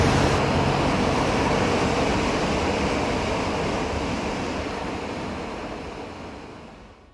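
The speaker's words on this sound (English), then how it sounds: "That is one badass waterfall." Waterfall on the Mist Trail in Yosemite, a loud, steady broadband roar of falling water close by that slowly fades toward the end, with no voices.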